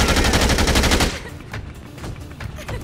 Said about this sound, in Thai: ได้จังหวะยิงซะเลย